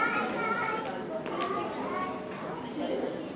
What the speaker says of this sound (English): Who is that little child screaming?